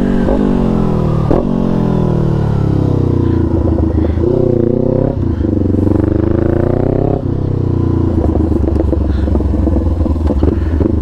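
On a test ride, a 2022 Honda CB 500 F fitted with a 304 stainless steel Atalla header revs hard nearby. The engine rises and falls in pitch across several throttle blips and shifts, loud and rough throughout.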